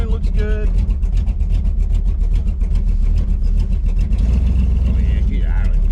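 A rebuilt 1968 Dodge Charger R/T engine running with a deep, loud, steady rumble close by, while people talk over it.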